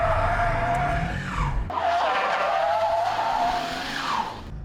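A car sliding through a handbrake turn, tires squealing loudly in two long skids with engine roar, a brief break between them as the car pitches around.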